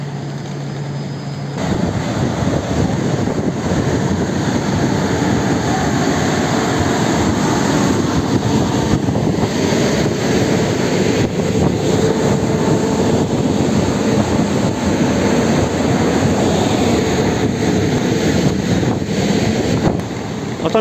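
A train rumbles and roars steadily as it pulls away from the station at Mielec, loud and continuous with a broad mechanical drone.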